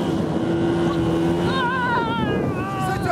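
A Korsar Komandor 430 Pro motorboat engine drones loudly and continuously while planing, with wind buffeting the microphone and a voice briefly heard over the roar.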